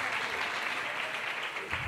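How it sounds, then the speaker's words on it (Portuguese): Brief, dense applause rises from the audience at a stage hypnosis show in Rio, a continuous wash of clapping lasting under two seconds. "Uma salva de palmas para os nossos astros."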